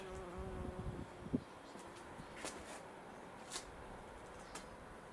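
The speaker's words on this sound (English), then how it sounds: "Would you buzz off, wasp?" A wasp buzzes around a person working outdoors on a Nissan S14/S15 Silvia front end, a faint steady drone under background noise with a few brief sharper bursts and some handling sounds.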